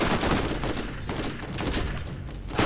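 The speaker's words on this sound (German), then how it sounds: "Ja, ich schieß schon voll drauf." Dense, loud gunfire in the shooter Borderlands, rapid overlapping shots and bursts filling nearly three seconds without pause.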